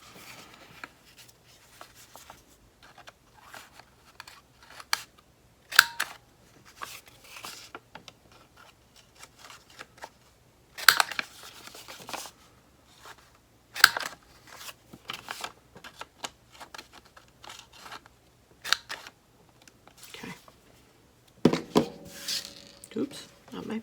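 Scissors snip paper for a handmade birthday card in short, quiet, irregular cuts with rustling between them, close by and without talk.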